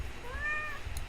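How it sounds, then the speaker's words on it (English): A pet cat gives a single clear, rising-then-falling meow, close and fairly loud, alone over a faint background hum. "I have a cat."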